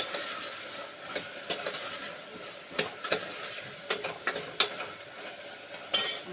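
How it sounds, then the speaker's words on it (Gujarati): Chopped cauliflower is stirred in a pan for chana-cauliflower curry, a spoon scraping and clinking against the metal in irregular strokes over a quiet background sizzle, close and fairly soft. "આપણું ફુલાવર છે સુધારેલું છે એમાં નાખી દઈશું સારી રીતે હલાવી લઈશું"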